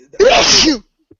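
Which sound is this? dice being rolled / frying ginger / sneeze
sneeze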